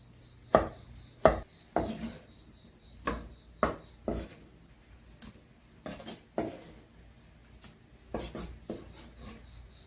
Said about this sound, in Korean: 이렇게 이제 크기를 일정하게 이렇게 썰어서, 잘라서